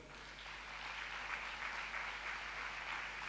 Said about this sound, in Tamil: கைத்தட்டுங்க ஒரு வாட்டி